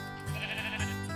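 Sheep bleating in a blocky sandbox video game, a single drawn-out wavering bleat heard clearly and close, with no voices over it.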